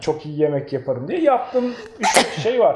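A single sharp sneeze bursts out in the middle of a conversation, sitting close and loud among people talking and laughing.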